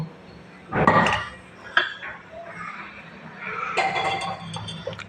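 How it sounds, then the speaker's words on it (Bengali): Potatoes and papaya are stirred in hot oil in a wok, a loud metallic scrape and clatter at the start, then softer clinks and a rising sizzle, close by. "আলু পেঁপেগুলো তেলে নেড়ে নেব।"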